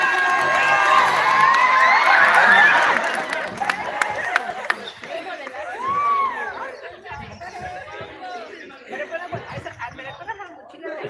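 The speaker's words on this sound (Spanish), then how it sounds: "Bravo, bravo. Aplausos, aplausos." A school crowd of children cheers and chatters loudly for a student modelling a backpack at a 'day without backpack' elimination event, the noise fading after a few seconds into scattered voices and shouts.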